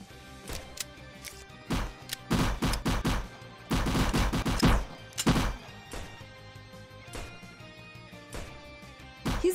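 Gunfire in a Roblox zombie bunker fight: bursts of rapid shots in clustered volleys, some loud and close, others sparser single pops, with no talking.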